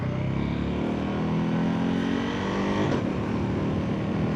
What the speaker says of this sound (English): Okay, some traffic.